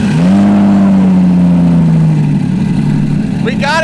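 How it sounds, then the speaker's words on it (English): A Lamborghini Diablo with a non-stock aftermarket exhaust fires up after powertrain repairs, its loud engine settling into a steady, rumbling idle close by. A brief sharp rev rises near the end, and a voice is heard over it. "This car is loud."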